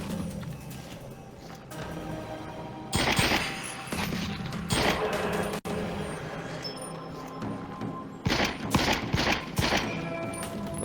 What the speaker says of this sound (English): they are shooting at someone else